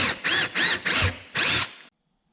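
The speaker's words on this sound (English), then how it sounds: "Now we're going to use a step drill" A step drill bit bores through the plastic of a fuel container in five short loud whirring bursts with brief pauses between them, ending in silence.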